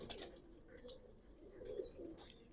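Giribaz pigeons in a loft give faint, low cooing phrases with a few higher chirps mixed in, quiet and somewhat distant.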